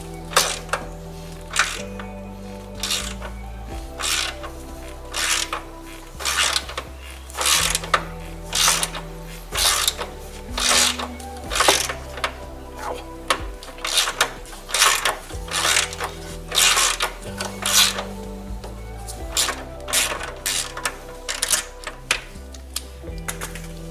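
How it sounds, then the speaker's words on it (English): Repeated bursts of ratcheting clicks as a bolt on a 2007 Subaru WRX bumper support is cranked down, coming in irregular rapid runs with short pauses between them. "So I already got this one loose. So let's just crank down on it."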